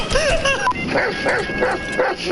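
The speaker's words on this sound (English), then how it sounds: "Stop barking, you goddamn lion or whatever you are, man." A dog barks and yips close by in a quick run of about half a dozen sharp barks with whiny edges, loud and distinct.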